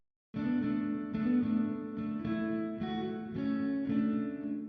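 Sustained chords from an electric guitar drenched in heavy reverb, each strum blooming into a long washy tail that blurs into the next, steady and fairly loud.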